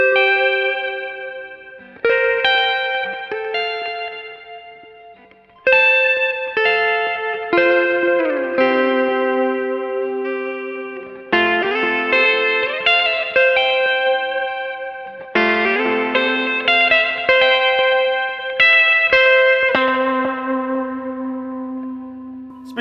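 Electric guitar played through a Minson M8 effects pedal with a gecko-style delay, ringing sustained chords and melodic phrases that trail into repeating echoes and a long fading tail, loud and close with no talking.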